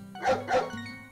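Two quick barks from a Border Collie in the video game Story of Seasons: Pioneers of Olive Town, close by, a short double woof over a faint steady background tone.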